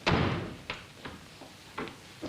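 An indoor door slams shut with a loud thud at the start, followed by a few fainter knocks and bumps through a quiet room.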